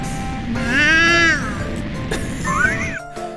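A voice imitates a cat's meow in a Catgirls and Chill game, giving a long rising-and-falling mew near the start and a shorter, higher meow toward the end, close and fairly loud.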